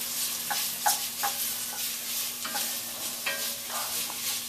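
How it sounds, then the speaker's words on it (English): Garlic sautés in a pan for a roasted red pepper tomato basil soup, a steady close sizzle broken by several light scrapes and stirring clicks, with a faint hum underneath and no talking. "I'm just going to saute these bad boys up."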